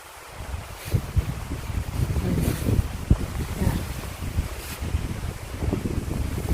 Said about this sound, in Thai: หนาวหนาวลมแรงมากเลยทุกคนคงได้ยินเสียงนะ